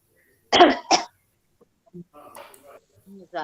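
Two sharp coughs close to the microphone during a classroom session, followed by quieter scattered murmuring and faint background sounds.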